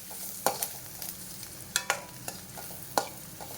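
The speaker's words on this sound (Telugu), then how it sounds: "కొంచెం పసుపు వేసుకోవాలి దాన్ని బాగా కలిపేసుకోవాలండి" A spoon stirs turmeric into a mixture frying in a pan for a black-eyed pea snack, giving sharp scraping strokes at irregular intervals over a steady, soft sizzle.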